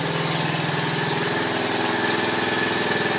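A worn-out motorbike, an old first bike finally running, revs loudly close by with a steady rough mid-pitched engine drone and vibrating knock, continuous and unbroken, with no voices over it.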